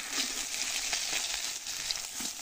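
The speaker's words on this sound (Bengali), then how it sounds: "একদম মচমচে করে ভাজে ফেলাইছি প্রায় 10 মিনিট ধরে ভাজলাম" Fish frying crisp in a pan for about ten minutes gives a quiet, steady sizzle dotted with small crackles and pops.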